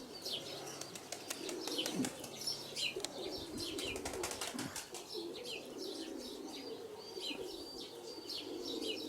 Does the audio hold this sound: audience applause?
no